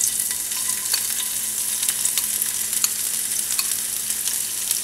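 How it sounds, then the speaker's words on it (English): Onions sizzle and spit steadily in hot grease in a pan, a close, continuous bright frying hiss with scattered pops, heard alone. "You just want to drop your onions in. Be careful because this will splatter."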